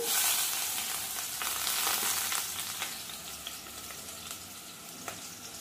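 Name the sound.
onions and green chillies frying in hot oil in a pan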